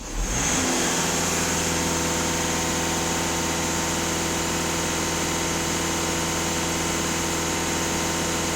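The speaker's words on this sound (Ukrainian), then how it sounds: "даю знову газ в пол" A VW Caddy with a 2.0 TDI diesel engine, under service for DPF and EGR cleaning, is held at full throttle, producing a steady, loud, sustained high-rev drone with strong tonal harmonics and no pauses.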